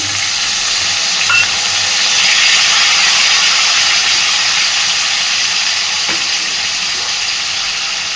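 Ginger paste and spices frying in a pan with a splash of water, giving a steady, loud broadband sizzle and hiss that runs throughout with no talk.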